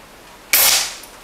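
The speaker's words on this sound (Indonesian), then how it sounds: "sekarang mau tes kotakan kiloannya ya untuk nembak metal siluetnya sekaligus tes power" An air gun fires a single sharp, snappy shot at a metal silhouette target, a brief loud crack that fades quickly against a quiet background.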